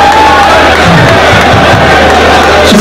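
A large outdoor crowd roars and cheers at a political rally in Goma's stadium, a continuous dense wall of voices with scattered louder shouts throughout.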